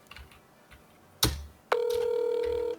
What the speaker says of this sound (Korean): 전화를 걸어 보겠습니다